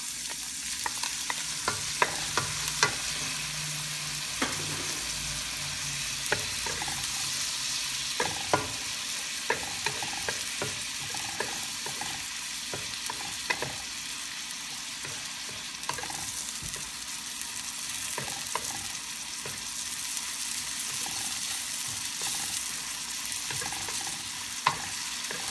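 Garlic sautés in a hot pan for pansit bihon guisado, a steady loud sizzle with frequent scraping and clacking from stirring, and no voices.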